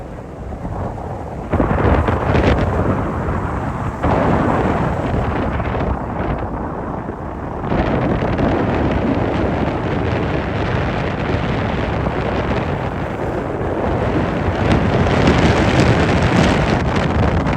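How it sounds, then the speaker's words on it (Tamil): Strong storm wind buffets an open microphone near the Pamban bridge at Rameswaram, a loud continuous rumbling roar with gusty surges throughout and no talking. "இதில் வந்து வெறும் காற்று மட்டும்தான் கேட்கு"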